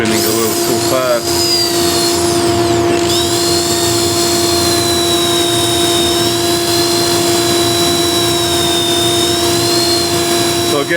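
A fast-spinning machine with a dust hood, used as a sanding alternative at 180 grit, gives a loud, steady whine with sustained tones and a rising pitch at the start, filling the whole clip while a person talks.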